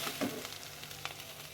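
Minced mutton keema sautéing in a pan gives a soft, continuous sizzle with faint crackles and an occasional stirring scrape, quiet and steady without voices.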